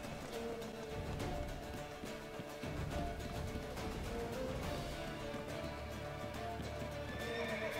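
A horse whinnies amid steady galloping hoofbeats and dense game-like background noise in the video game The Witcher 3, loud and continuous throughout.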